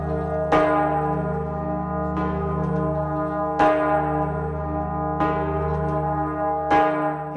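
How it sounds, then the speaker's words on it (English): A large, deep church bell in Mösern, Tirol, Austria tolls five times at slow, regular intervals, each strike ringing out with a long, shimmering decay. Loud and resonant, with no voices. "the bell is truly an imposing sight to behold, and its ring can be heard from far away"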